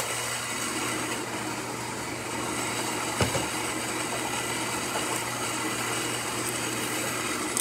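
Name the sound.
Saeco Incanto espresso machine grinder grinding coffee beans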